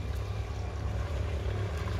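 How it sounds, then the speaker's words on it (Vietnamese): A rice-carrying riverboat motoring past on the river, its engine a steady low throbbing drone at moderate distance with no voices. "Thì có chiếc ghe lúa chạy"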